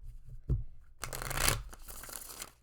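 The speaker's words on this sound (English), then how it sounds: "One more shuffle." A deck of tarot cards being shuffled close by: a soft tap, then a brisk riffling flutter lasting about a second before it trails off.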